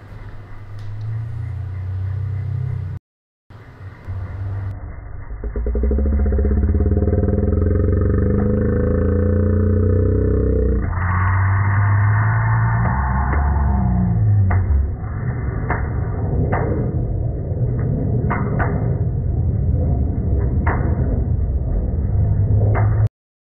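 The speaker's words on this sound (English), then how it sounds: "I've got a small video of the launch of the rocket, and it's going to sound a little strange because it's in slow motion" A large rocket lifts off in slow-motion playback, giving a loud, drawn-out, pitch-lowered roar that swells after a brief cutout and holds steady for about twenty seconds, with no talk.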